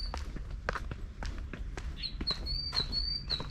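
Thin, high bird chirps trill through the second half over a series of soft, irregular footsteps outdoors.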